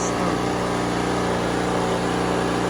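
A Pulsar PG3250 portable generator drones steadily just after startup, loud and close with a constant engine hum.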